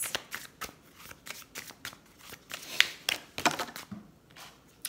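A deck of moon oracle cards is shuffled by hand, giving a quiet, close run of quick riffling flutters and soft card slaps with a few sharper snaps, and no voice.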